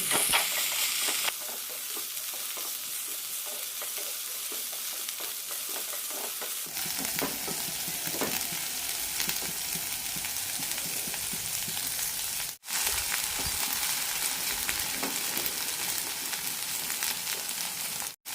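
Okra frying in a little hot oil in a pan, a steady, bright, close sizzle that holds throughout with occasional stirring clicks and one brief dropout.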